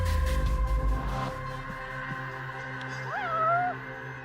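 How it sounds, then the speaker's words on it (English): A cat in the game Judgment gives a clear, rising-and-falling meow near the end, after a stretch of low rumbling game ambience and steady tones. "Where's this cat noise?"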